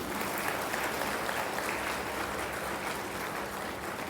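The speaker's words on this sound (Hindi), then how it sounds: "एक बार बजाओ ताली।" A class claps together in sustained, dense applause from many hands, steady and loud throughout, during a spiritual yoga session in Dhamtari, Chhattisgarh.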